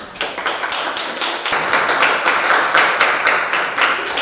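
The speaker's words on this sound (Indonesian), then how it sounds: "tepuk tangan" Clapping from a class audience at a lesson on Tantra, Yantra and Mantra, a quick scatter of close hand claps forming a brisk, uneven patter that continues steadily throughout, with no talking over it.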